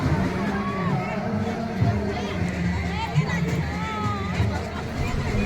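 Dense crowd hubbub at a Jain diksha ceremony procession, a steady babble of many voices with children among them, continuous and fairly loud, with a narrator speaking over it.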